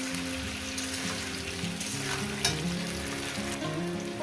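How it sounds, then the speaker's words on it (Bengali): Onion and cauliflower fry steadily in a pan, a dense continuous sizzle with scraping stirs and a few sharp utensil clacks, close and loud with no voices. "পেঁয়াজ দিই এত সুন্দর করে ভাজুন"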